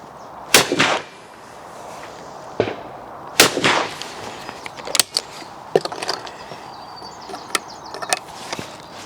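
Shots from a Browning B26 over-and-under shotgun fired at clay targets: several sharp, loud reports spaced irregularly across the clip, each with a brief echoing tail over outdoor ambience.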